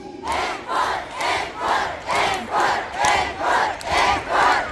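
A concert crowd at an outdoor festival show chants "encore" in unison, eight loud rhythmic bursts evenly spaced like a steady beat, each a massed shout from many voices.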